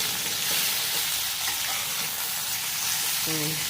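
Raw mango pickle is stirred in a pan, a steady close hiss and sizzle with soft scraping throughout, ending in a brief clink; no talking.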